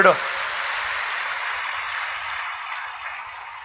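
A church congregation clapping loudly to praise God during a Telugu sermon, a dense, steady wash of applause that starts with a sharp burst and holds at an even level for several seconds.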